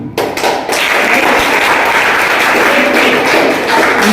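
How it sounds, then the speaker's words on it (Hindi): A roomful of students claps for themselves, starting with a few scattered claps before swelling into loud, dense, sustained applause close by. "तो आप अपने लिए ताली अच्छे से बजाइए कि आप जैसा कोई नहीं।"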